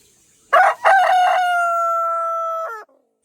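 A rooster crows once at close range, loud and clear, the call opening with two short rising notes before a long sustained tone that breaks off sharply at the end.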